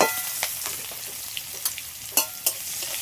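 Chopped onion and crushed garlic fry in hot oil over whole spices, giving a continuous bright sizzle with intermittent sharp spatula scrapes and taps on the pan. No one speaks.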